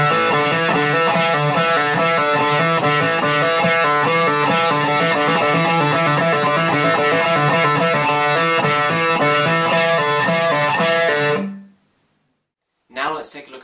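An electric guitar plays a basic legato exercise up to speed, a dense run of quick hammered and pulled notes for about eleven seconds before stopping, then a brief new sound at the very end.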